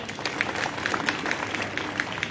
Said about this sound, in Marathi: टाळ्या वाजा जोरदार